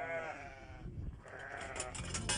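A lamb bleats repeatedly at close range while held on a castration cradle, its wavering cries carrying over steady background noise from the handling setup.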